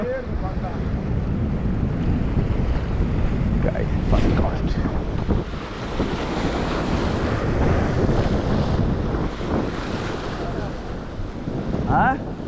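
Steady, strong wind buffeting the microphone over the rush of ocean waves at a jetty, a constant roar throughout with occasional faint voices.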